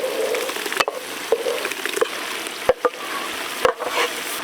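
Ground masala is added to country chicken sizzling in a pan, a steady fry crackle broken by several sharp clanks of a spoon stirring against the metal.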